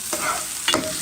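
Canned corned beef stirred in a hot pot: two sharp spoon scrapes over a constant frying hiss, near and fairly loud, no voices.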